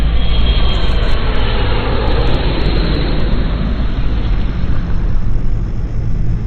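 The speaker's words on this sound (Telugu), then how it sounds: "అది ఎయిర్పోర్ట్ రూటు ఫ్లైట్ వెళ్తుంది అనమాట. సరే, అదే సమయానికి టేకప్ అయింది." A loud, close airplane roars through a takeoff near an airport route, a dense broadband engine rush that holds steady from start to finish with no talk.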